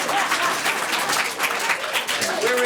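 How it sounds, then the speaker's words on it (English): A crowd at a Board of Education meeting applauds with dense, steady clapping throughout, fairly loud and close, with faint voices mixed in. "Little cheap applause for me, but thank you so much."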